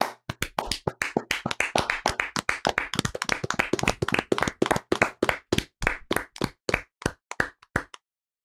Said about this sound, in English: Steve, stop clapping there